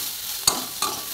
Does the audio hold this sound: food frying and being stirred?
yes